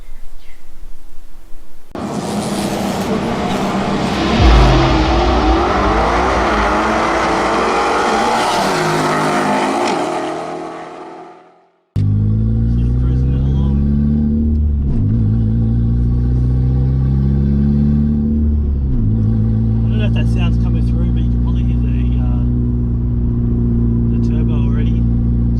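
A turbocharged Mazda 323 Familia heard from inside the cabin: loud engine roar and revving, a pause, then repeated gear-by-gear acceleration sweeps climbing in pitch, with some talking mixed in.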